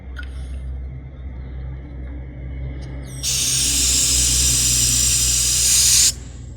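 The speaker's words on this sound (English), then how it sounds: "I want to purge the air out of this hose right here" Air is purged from an AC refrigerant gauge hose on an R-410A unit, giving a sharp, loud, steady hiss that starts abruptly, runs for about three seconds and cuts off, over a low constant outdoor rumble.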